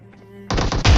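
Shotgun fire in the PUBG video game: after a near-silent stretch with a faint low hum, a loud, close blast hits, followed almost at once by a second heavy boom with a rumbling tail.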